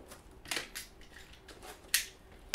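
A cardboard box holding an MSI GE72 Apache Pro gaming laptop is cut open, producing several sharp, close slicing and snapping cracks spaced irregularly against a quiet background.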